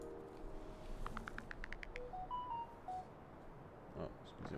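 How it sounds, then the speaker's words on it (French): A mobile phone notification plays a short series of quick electronic tones followed by a few higher beeps, faint over a low steady background. "Excusez-moi, ça c'est mon téléphone."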